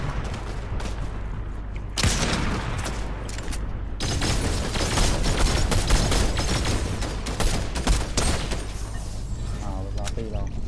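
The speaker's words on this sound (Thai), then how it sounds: "มีคนยิงใส่คนยิงใส่" Rapid bursts of enemy gunfire in the video game Fortnite, loud and dense, nearly continuous volleys and shots under excited talking.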